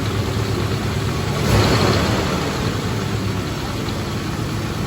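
A 1973 Triumph Stag engine idling high, giving a steady, close, broadband rumble with a slight swell near the start.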